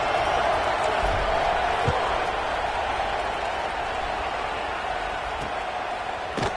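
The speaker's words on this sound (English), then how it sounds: "this crowd is buzzing after that last score" Crowd buzzing in a college football stadium after a score, a continuous broad roar of many voices with occasional claps and shouts, steady and loud throughout.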